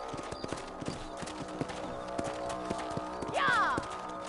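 Horse hooves clip-clopping in Red Dead while riding across a ranch property, a steady rhythmic trot under background game sounds, with a brief whinny near the end.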